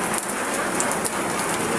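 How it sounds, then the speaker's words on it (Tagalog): Heavy rain pours steadily and loudly on surfaces nearby, a dense continuous hiss with no voices. "Kaya lang, malakas po yung ulan."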